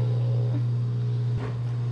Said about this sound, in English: I know you can hear the dishwasher in the background.